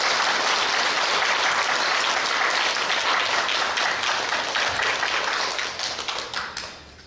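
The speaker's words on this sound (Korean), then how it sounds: "우리 하나님 앞에 감사와 찬양의 박수 한번 올려드립시다." A church congregation at a Sunday morning service bursts into dense, loud applause that holds steady for several seconds before thinning out and fading near the end.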